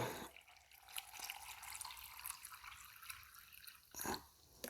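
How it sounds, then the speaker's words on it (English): Distilled water streams steadily into a container at close range, a soft continuous trickle with a couple of brief splashes toward the end. "And just fill the rest of it up with distilled water."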